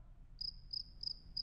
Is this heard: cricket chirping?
yes